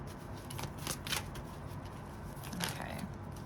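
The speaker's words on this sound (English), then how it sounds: "These cards weren't really meant to shuffle in this way" Stiff playing cards, not made for this style of shuffling, are shuffled by hand in a few quick crisp riffles and snaps, close and fairly loud against a steady background hiss, with no talking.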